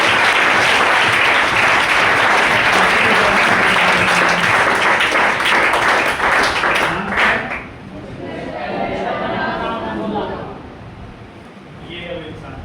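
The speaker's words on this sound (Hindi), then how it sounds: "जोरदार ताली दीजिए हमारी कंपनी के ऑनर के लिए।" An audience at a training session claps loudly for the company owner, a dense sustained burst of applause that fades after about seven seconds into softer scattered clapping and murmuring.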